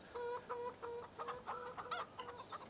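Chickens in the Farming Simulator 2017 video game cluck in a steady run of short, evenly spaced calls, fairly quiet and with no talk over them.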